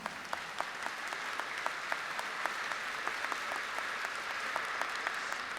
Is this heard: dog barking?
no